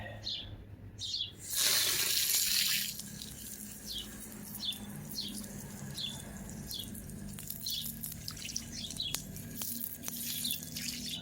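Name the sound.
rinsing parts under running tap water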